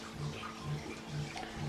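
Water poured or running for a Kratky hydroponics setup at an Earthship, a soft steady splashing flow with faint pulsing low hum underneath, fairly close and unaccompanied by speech.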